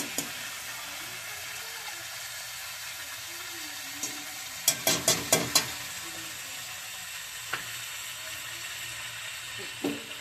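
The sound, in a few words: chicken frying in butter on low flame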